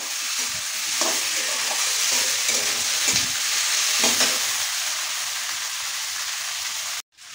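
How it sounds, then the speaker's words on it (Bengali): Chopped tomato frying with ginger-garlic paste in a pan, a loud, steady sizzle with occasional stirring scrapes, continuous until an abrupt stop near the end; no voices. "এবারে দিয়ে দিচ্ছি আমি টমেটো কুচি, এটাকেও ভালো করে একসঙ্গে ভেজে নেবো।"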